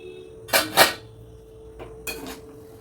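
Metal lid placed over a pot of semolina cooking on a low gas flame: two quick clanks close together, then a faint tap and another clatter.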